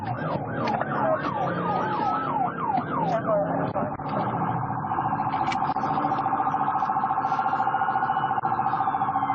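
An ambulance siren wails in rapid rising and falling sweeps during a high-speed police chase, then settles into a steady high tone, loud and close over road and engine noise.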